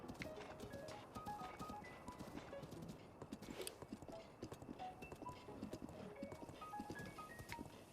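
Horse hooves clip-clopping at a quick gallop in the video game Breath of the Wild, a dense rhythmic patter with game music and ambience layered underneath.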